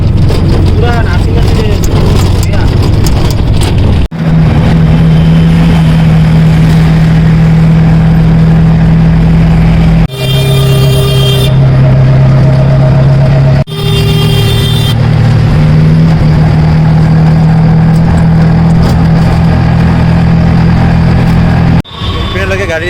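Auto rickshaw engine droning steadily through a ride toward India Gate in Delhi, a loud continuous motor hum with a few abrupt cuts, voices talking over it.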